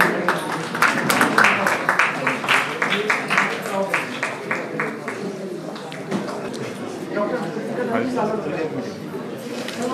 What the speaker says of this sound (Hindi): मैम के लिए जोरदार तालियां